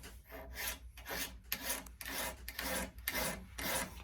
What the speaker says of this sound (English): You can just tell when I run this file over here, or I can, how much more metal I'm taking off on these versus what I did the other ones.